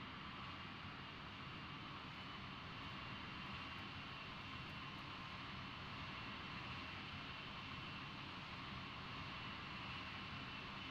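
A fixed-wing aircraft engine in the Arma 3 video game roars as a continuous, even broadband drone for the whole stretch, steady and unbroken with no voices.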